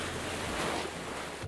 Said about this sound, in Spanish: Olas del mar.